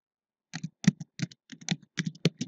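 Rapid keystrokes clatter on a computer keyboard in short irregular bursts, close and crisp against silence.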